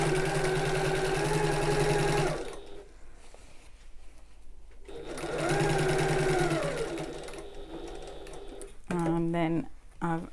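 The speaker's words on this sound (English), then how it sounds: "I'm going to back stitch at the start." A sewing machine stitches tote bag lining panels, running in two steady whirring bursts separated by a quiet pause, then a short, quick back-stitch burst at the end.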